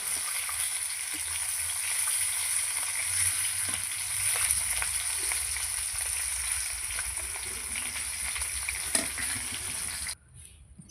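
Pieces of fish, including rohu head and belly cuts, sizzling in hot oil in a wok: a steady, dense crackling fry close by, continuing without a break for about ten seconds before it cuts off abruptly.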